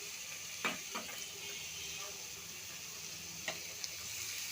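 Food sizzling steadily in a pan, a soft continuous hiss with a few small clicks and a light utensil tap or two, no voices over it.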